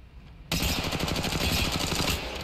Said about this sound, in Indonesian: ini juga fire rate kencang tapi dia pakai light ammo